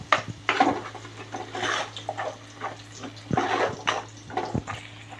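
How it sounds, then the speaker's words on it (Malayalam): Water is poured from a glass into a pan of coconut-ground fish curry with kudampuli, giving a continuous splashing, sloshing pour over a steady low kitchen hum. "ഇനി നമുക്കിതിലോട്ട് ഞാനൊരു 1 ഗ്ലാസ് വെള്ളം കൂടെ ഒഴിക്കുവാണേ."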